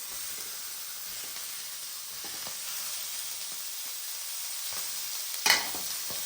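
Peppers and onions for pepper steak sizzle steadily in a hot pan, a soft continuous hiss with occasional stirring scrapes and one sharper crackle near the end, no talking.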